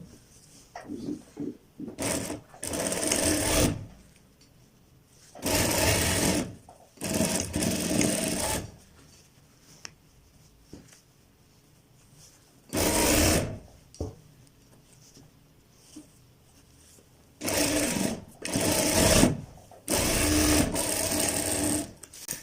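A sewing machine stitches the front of a ladies suit in repeated bursts of rapid mechanical chatter, each several seconds long and separated by pauses, heard close and clear.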